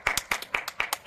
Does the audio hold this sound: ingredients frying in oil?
no